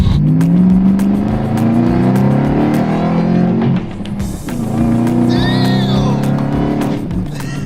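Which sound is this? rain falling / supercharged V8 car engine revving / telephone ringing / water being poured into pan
supercharged V8 car engine revving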